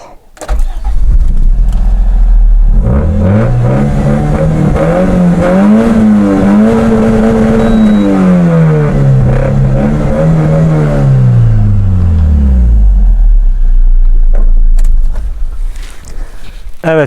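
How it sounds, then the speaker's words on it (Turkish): A modified Toyota Corolla engine starts and idles with a deep exhaust rumble, revving up and down in smooth swells, loud and close, before cutting off. "Bir çalıştırayım motor sesini duyun arkadaşlar. Egzozun sesini."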